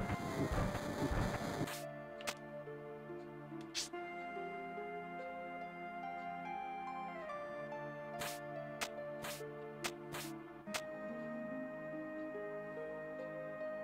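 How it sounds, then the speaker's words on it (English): Rumbling in-game train from Final Fantasy VII reversing, with a steady low mechanical drone, shifting tones and several sharp clanks and hisses spread through, under background music. "let's go ahead and back this train up now"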